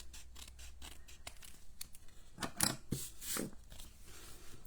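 Scissors trim the bottom edge of a paper card, a series of crisp close snips and scratchy cuts at an uneven pace with no talking.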